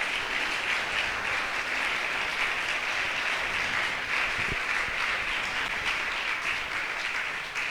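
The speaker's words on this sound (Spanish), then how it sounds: "Dele un aplauso fuerte al Señor." A church congregation applauds loudly for the Lord during a sermon. Even, sustained clapping from many hands fills the whole stretch without pause or talk.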